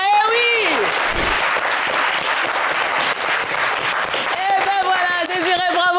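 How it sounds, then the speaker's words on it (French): A studio audience on a French TV game show applauds in a loud, steady wash of clapping lasting several seconds, with a host's voice and musical stings over it. "Allez, on applaudit les 4 candidats qualifiés."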